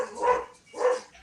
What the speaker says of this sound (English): Somebody's doggies are barking.